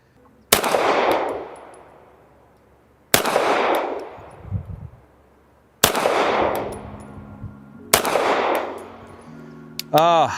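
Four loud, sharp pistol shots fired at 20 yards, spaced a few seconds apart, each followed by a long echoing decay, with a faint metallic ring near the end.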